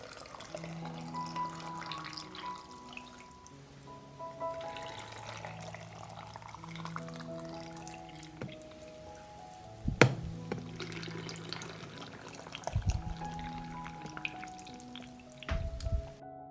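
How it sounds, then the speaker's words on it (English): Water poured from a container into glass jars packed with peppers, a soft gurgling trickle with rising tones as each jar fills, quiet and intermittent, with a few sharp clinks of glass along the way. "I pour water into each jar to cover the pepper."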